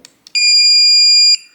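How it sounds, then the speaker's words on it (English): A Weiser SmartCode traditional keypad deadbolt sounds a loud, steady electronic beep lasting about one second during a reset, preceded by two short button clicks. "once you hear that long beep, release it."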